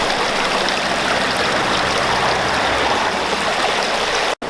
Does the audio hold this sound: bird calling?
no